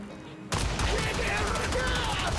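A corrupted heavy gunner's machine gun in Warframe opens up suddenly and keeps firing in a dense, continuous, loud burst of rapid shots, with a faint voice underneath.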